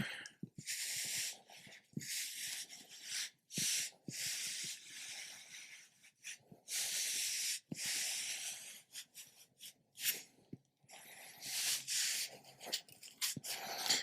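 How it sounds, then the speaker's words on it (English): Cloth rubbing Autosol polish off the steel blade of a hussar sabre, a close, repeated bristly hiss in strokes of varying length with short pauses between them. "now I'm rubbing off only the autosol"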